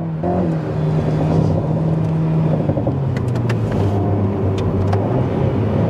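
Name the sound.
Alpine A110 R sports car engine driving in sport mode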